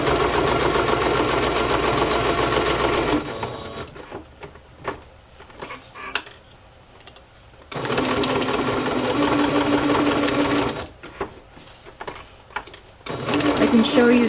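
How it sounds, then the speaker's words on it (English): A sewing machine stitches lace around a paper card, running in two long steady whirring bursts separated by pauses filled with small handling clicks and rustles, close up. "now I'm just going to sew around the card."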